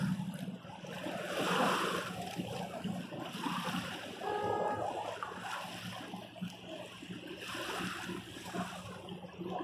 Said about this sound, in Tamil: மோட்டர் போட்டு ஓட்டுறாங்க பாருங்க